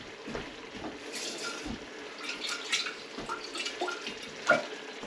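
Water poured into a quart jar to rinse out leftover homemade garden pasta sauce, with close, intermittent splashing, trickling and dripping sounds and no talk.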